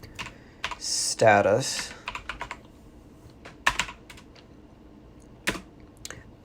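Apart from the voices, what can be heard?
typing a command on a computer keyboard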